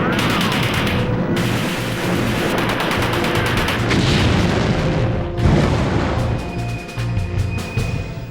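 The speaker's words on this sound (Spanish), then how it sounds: "Se inició un tiroteo desde los edificios de la otra orilla" Battle of Berlin street fighting from buildings across a river: loud, dense bursts of rapid gunfire overlap with heavy booms and explosions in a continuous, chaotic barrage.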